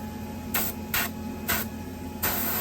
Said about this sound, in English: Now I've got the gun adjusted to just barely put out any paint.